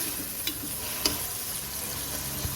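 Tomatoes and green chillies are stirred into camel karahi, a steady close sizzle with a few light scraping clicks from the spoon, no talking.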